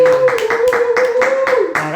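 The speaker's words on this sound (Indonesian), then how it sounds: "Jadi kita tepuk tangan dulu lah." Sharp, evenly spaced hand claps repeat about eight times in a steady rhythm, close and loud, over a sustained voiced tone that runs underneath throughout.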